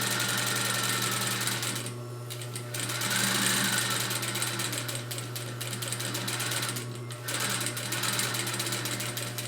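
A sewing machine stitches a durable fabric tote bag close to a fold, running in a steady mechanical whir with brief pauses and restarts.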